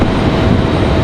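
A Boeing 777 airliner arriving at Raleigh-Durham airport makes a loud, steady, broadband engine roar that fills the short stretch without letup.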